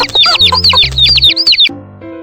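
Cartoonish electronic hen chirps and clucks from a children's game in quick succession over a bouncy synthesized backing, loud and close, ending with a short tonal note.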